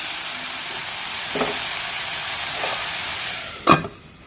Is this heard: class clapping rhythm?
no